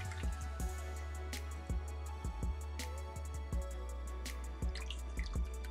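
Cool water splashes and drips while a face is rinsed at a sink, sounding as close, irregular small splashes and droplets over a steady low background hum, without talk.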